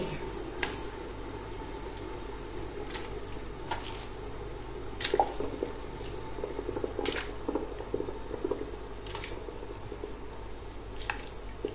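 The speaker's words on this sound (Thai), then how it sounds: "อันดับแรกใส่ขาหมูไปในหม้อที่น้ำกำลังเดือดเลยค่ะ" Pork leg going into a pot of boiling water for Thai-style boiled pork leg, with soft bubbling, wet squishes and occasional drips over a steady low simmer hum, close and without talk.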